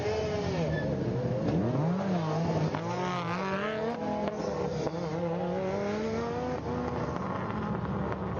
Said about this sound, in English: Now this is David Kedworth with the Sport Quattro